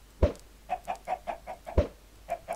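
Chickens in the game Minecraft cluck in a rhythmic run of short clucks, with two louder sharp blips among them, quiet and close with no talking.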